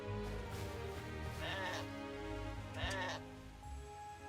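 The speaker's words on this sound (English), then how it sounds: "Some sheep." Sheep bleat in a blocky survival game, two wavering calls about a second and a half apart, moderately close, over a soft background hum with someone talking across them.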